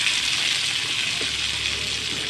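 Big onions sauté in a pan for a manathakkali kai puli kuzhambu, giving off a steady, even sizzle that stays close and continuous with no talking.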